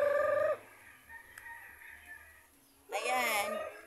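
Ducks and chickens call on a rural farm in the Philippine provinces, with a loud squawk at the start, quieter clucking in between, and another loud burst of calls near the end.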